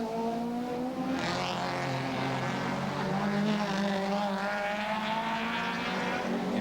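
Touring race cars at speed during the 1991 Nissan Mobil 500 street race at Wellington, a BMW M3 leading, engines wailing and shifting pitch as they pass, a continuous loud drone with tire noise.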